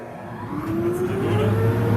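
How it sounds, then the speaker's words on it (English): A Laguna dust collector spins up in a workshop, its steady motor whine rising in pitch over about two seconds with a broad rushing hum beneath, loud and close. "I want to start my Laguna dust collector first"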